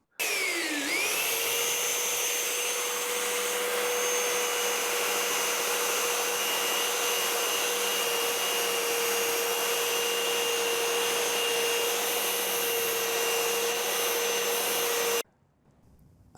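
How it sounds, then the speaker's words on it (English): A Triton belt sander runs steadily while mounted upside down as a benchtop sander, a loud continuous motor whine and belt rush that spins up at the start, holds evenly, then cuts off near the end. "we can then use the machine inverted as a desktop belt sander"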